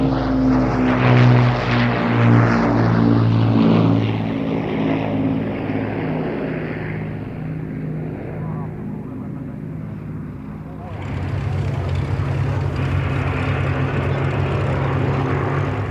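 Battle of Britain Memorial Flight aircraft at the IWM Duxford Battle of Britain Airshow, a loud propeller-engine drone sweeping past, fading and then swelling again, with a commentator talking over it.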